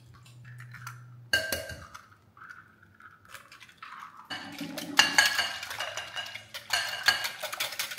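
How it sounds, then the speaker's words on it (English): Milk and eggs being whisked together in a bowl, with quick metallic clinks of the whisk against the sides, soft and close, a pause early on, then steady brisk beating. "it says to whisk together your milk and eggs"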